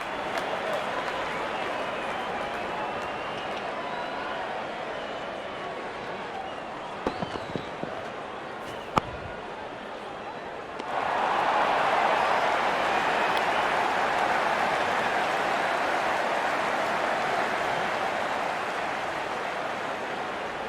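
A cricket crowd at a Hong Kong versus Nepal match applauds and cheers a wicket in a broad, steady roar. The noise swells louder partway through and stays sustained, with no talk over it.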